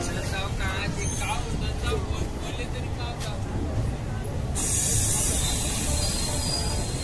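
A Surat-bound passenger train rides toward Jalgaon, its steady rumble and rattling carriage noise filling the whole stretch, growing a little louder and hissier toward the end.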